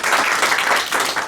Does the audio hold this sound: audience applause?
yes